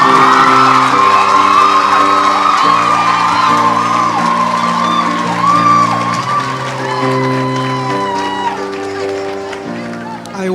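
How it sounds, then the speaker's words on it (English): Audience at a school speech and prize giving day claps and cheers loudly, with whoops and shouts over steady music, the crowd noise sustained throughout and easing slightly near the end. "let's give them one round of applause"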